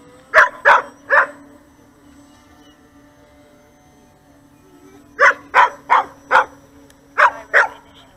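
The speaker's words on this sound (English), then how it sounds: "I don't miss the barking" A dog barks in loud, close bursts, three quick barks, a pause with a faint steady hum in the background, then another run of five sharp barks.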